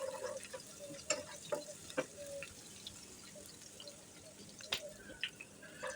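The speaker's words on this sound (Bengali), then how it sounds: "আমি এটাকে এখন একটু ব্রাউন কালার করে ভেজে নিচ্ছি।" Chopped onions fry in sunflower oil in a pan, a steady faint sizzle broken by several sharp clinks and scrapes of a stirring spoon, with no talk.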